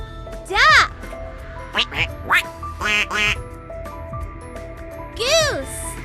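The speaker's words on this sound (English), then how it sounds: "Duck." A duck quacks in two bursts of repeated nasal calls, loud and close, separated by a stretch of fainter background sounds with soft musical tones.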